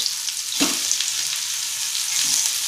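Mandeli fish fries in a pan with a steady, bright sizzle of hot oil that is loud and close. A brief stir or turn adds a soft scrape partway through, and there is no talking.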